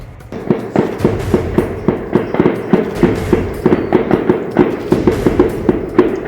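Gunfire crackles through a police encounter with Naxalites at the foot of Lugu hill in Bokaro's forest, a loud, rapid string of sharp shots repeating rhythmically without a break.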